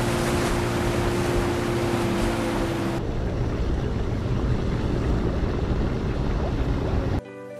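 A boat runs across open water in the Squid Game series, a steady broadband engine and wash roar that changes character partway through and cuts off abruptly near the end.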